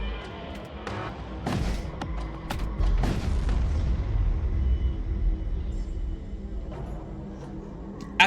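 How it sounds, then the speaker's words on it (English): A heavy explosion in the sci-fi video game Void War booms out with sharp cracks, followed by a sustained low rumble that slowly dies away. "After the explosion"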